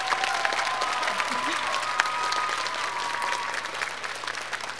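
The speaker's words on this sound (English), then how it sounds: "So let's give her a warm round of applause." An audience at a choral festival applauds the accompanist with steady, dense clapping that fills the hall and carries on throughout, with a faint held tone underneath.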